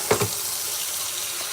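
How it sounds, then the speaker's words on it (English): Hot water runs from a tap into a sink to warm a puppy's bottle, a steady soft broadband hiss after a brief splash at the start. "So what I'll do is run really, really, really, really hot water."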